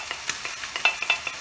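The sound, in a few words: vegetables frying in a pan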